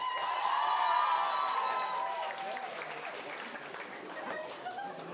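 Audience at a live event applauds and cheers for a song, with dense clapping and some shouting that is loudest at first and then eases off slightly, with voices mixed in.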